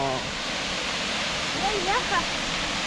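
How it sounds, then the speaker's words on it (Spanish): Large waterfall on the Laguna Submarino trek near Ushuaia, a loud, steady broadband roar of crashing water filling the whole clip, with faint voices or exclamations briefly rising above it. "Esta cascada es mucho más grande que la del submarino."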